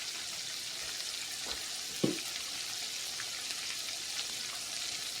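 Okra frying in a pan gives a steady, even sizzle throughout, with a soft tap or two of utensil contact partway through.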